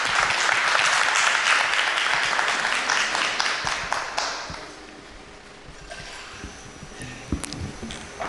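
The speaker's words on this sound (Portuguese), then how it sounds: "Palmas para ele." Applause for a singer walking onto a television show stage, dense clapping that fades after a few seconds into quieter scattered claps and light stage noise.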